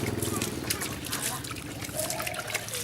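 Probiotic liquid poured over fermented banana-stem goat feed makes a close, continuous trickling and splashing under a man's spoken instructions.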